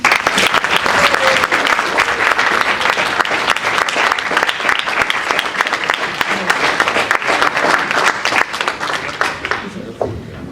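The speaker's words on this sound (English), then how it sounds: "Please give a warm round of applause for our delegate manager and friends in the Human Rights Council, Ivana Ahmad." Sustained applause from a large crowd at a Model United Nations closing ceremony, steady and loud throughout, with a few whistles or cheers mixed in before it thins slightly at the end.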